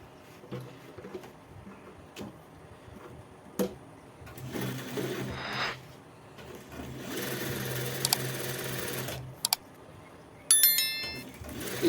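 A sewing machine stitches a nonwoven bag in several short, close bursts separated by clicks and pauses, with a longer steady run near the middle and sharp metallic ticks late on.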